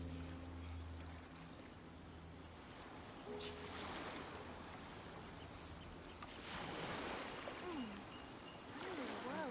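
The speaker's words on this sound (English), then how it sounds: "The sound of the ocean waves." Faint rushing video game ocean waves from Genshin Impact wash in and out with swelling surges, accompanied by soft wind and occasional tonal chirps in the background.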